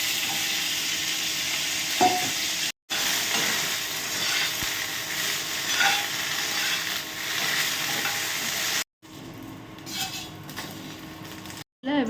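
Okra frying in oil in a kadhai while being stirred, a steady close sizzle with scraping stirs and occasional clinks, broken by a few brief gaps.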